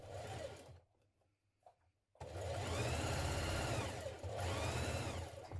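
A sewing machine stitches a jumpsuit seam at a 1.2 cm seam allowance, with a short run, then a near-silent pause, then a long steady run of close, rhythmic whirring and no speech.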